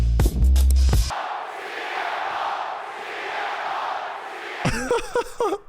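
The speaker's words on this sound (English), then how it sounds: "They're still chanting CM Punk." A large wrestling arena crowd roars and chants "CM Punk" in a sustained wash of voices, heard behind louder nearby talking at the start and end.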